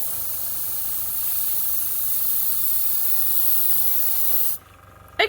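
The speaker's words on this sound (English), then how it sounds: "Okay, so it is airbrushing out." An airbrush spraying watered-down paint gives a steady, close airy hiss for about four and a half seconds, then cuts off abruptly, followed by a short faint click.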